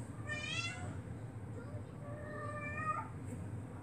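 A cat meows and howls indoors in two drawn-out wavering cries, close and fairly loud over a low background hum.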